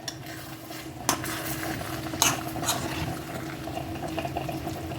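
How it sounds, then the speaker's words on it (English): A spoon stirs food in a cooking pot over a sizzling heat while Sunday dinner of beef ribs, yellow rice and French string beans is made, with a couple of sharper scrapes against the pot amid a steady close simmer. "I'm giving that another good stir"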